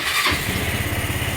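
An Easyride ADV 175 motorcycle, its starter just repaired with a new carbon brush, cranks and fires up, settling into a steady, rhythmic single-cylinder idle close by.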